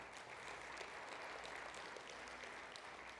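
Congregation at the De Queen Assembly of God church claps in steady, even applause that stays at one level throughout and sounds somewhat distant.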